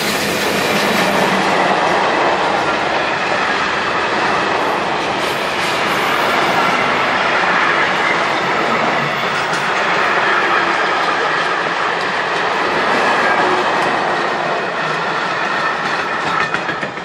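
An eastbound freight train hauled by three locomotives rolls past close by, a loud, continuous roar of rumbling wagons and rhythmic wheel clatter with faint squeals throughout.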